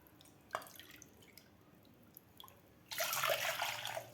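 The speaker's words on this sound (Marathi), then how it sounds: "दोन वाट्या पाणी घातलेलं आहे" Water poured from bowls into a cooking pot, with a few faint drips followed by a loud, steady gushing pour in the final second and a half, close by and with no talking.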